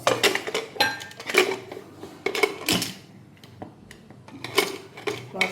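Metal clanks and scrapes as a pressure cooker lid is fitted and closed, a string of sharp close knocks and rattles repeating irregularly throughout.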